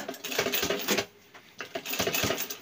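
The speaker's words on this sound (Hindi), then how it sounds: "यहाँ से सिलाई बंद कर दीजिए।" A sewing machine with a size 19 needle stitches a jacket pocket closed, a close, rapid rattling run of needle strokes that pauses briefly and then starts again.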